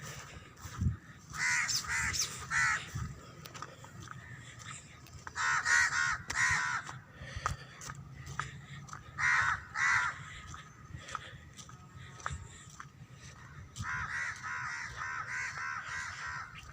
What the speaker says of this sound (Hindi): कौवे भी कह रहे हैं कि हमें खाना दें